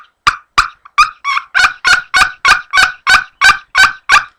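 A maple wood turkey box call, played with the fingers held open, gives a loud, throaty, gobble-like run of about a dozen evenly spaced yelps, close and alone.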